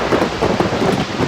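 Heavy rain and gusting wind of a night storm, a dense, steady roar with swelling surges throughout, loud and close with no voices.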